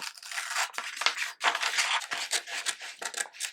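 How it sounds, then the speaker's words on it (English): Scissors snip through paper in quick, close bursts, crisp cutting and crinkling sounds with brief pauses between strokes. "I'm just going to cut the template out using a paper scissors"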